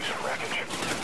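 Gunfire rattles in Call of Duty: Ghosts, a dense burst of rapid shots filling the whole brief moment, loud and close, with a voice talking over it.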